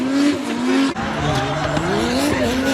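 A Ford AU Falcon drift car skids through a drift championship run, its tyres squealing in a loud, wavering, continuous screech over engine roar, uninterrupted for a few seconds.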